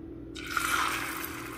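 Liquid poured into an oiled pan breaks into a sudden, close hiss after a brief low hum, then keeps up a continuous sizzling wash to the end.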